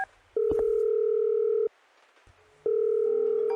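A telephone line gives a steady, loud, close tone in two long bursts separated by a short pause with faint clicks, like a ringback or dial tone heard from the handset.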